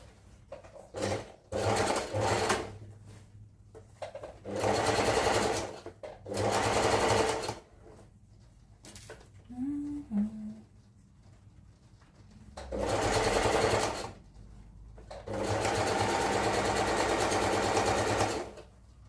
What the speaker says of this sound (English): We'll do the same thing here. I'll stitch 1/2 inch away.